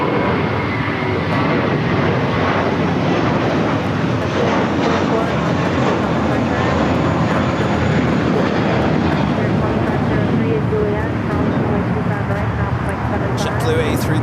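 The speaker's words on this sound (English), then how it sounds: "JetBlue A321 taking off." A JetBlue Airbus A321 airliner takes off at LAX, its jet roar a steady, loud broadband rumble filling the whole stretch, with a radio voice talking over it.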